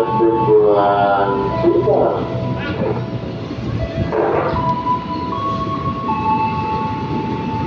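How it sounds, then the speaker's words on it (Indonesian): A KRL commuter train bound for Cikarang rumbling and screeching into a station, with brake squeals and tonal hums, loud and close, voices faintly mixed in. "Oke, masuk KRL tujuan Cikarang ya teman-teman."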